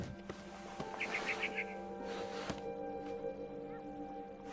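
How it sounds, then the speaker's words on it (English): A barn swallow in the video game What Remains of Edith Finch gives a quick run of four or five bright chirps, faint against a low ambient hum and scattered soft knocks. "It was a barn swallow going back to her nest."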